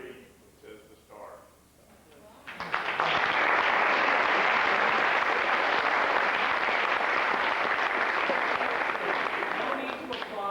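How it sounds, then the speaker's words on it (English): Loud, sustained applause from a theatre audience at a stage mentalism show breaks out after a few seconds of talk and continues as dense, steady clapping to the end. "No need to applaud."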